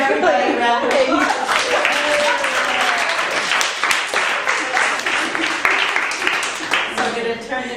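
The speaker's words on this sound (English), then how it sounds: "Let's give everybody a round of applause." A roomful of people at a workshop breaks into a round of applause, dense and steady for several seconds, with voices and cheers mixed through the clapping.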